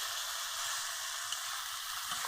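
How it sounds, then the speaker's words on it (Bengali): Onion and chilli frying in a pan in a village kitchen, a steady soft sizzle with faint low bubbling throughout. "পেঁয়াজ আর লঙ্কা দিচ্ছি। ভেজে নেবো সামান্য"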